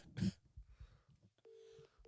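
A telephone is dialed for a call, with a bump and brief handling noise, then a steady electronic tone lasting under a second, close and quiet with no talk.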